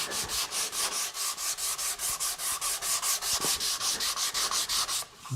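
Sandpaper is rubbed by hand over wooden ogee bracket feet in quick regular back-and-forth strokes, a close rasping swish repeating about five times a second, then a brief pause and a knock at the end.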